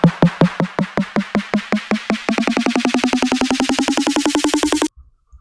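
A pitched-up, time-stretched sample in an FL Studio remix plays as a steady train of short, evenly spaced hits that speed up and rise slightly in pitch over about five seconds, then stop abruptly into silence.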